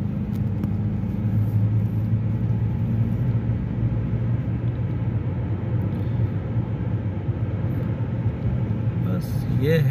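A car travelling along a road in Saudi Arabia, with a steady, loud low engine and road rumble continuing throughout and someone talking over it.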